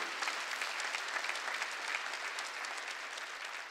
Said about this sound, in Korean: 빨리 박수 치라고.